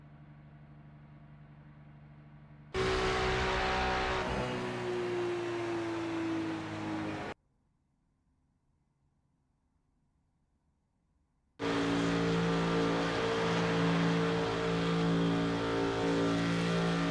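A race car engine in Grid Rivals drones at high revs in fifth gear, loud and sustained. It cuts out abruptly for a few seconds of near silence, then roars back just as strongly.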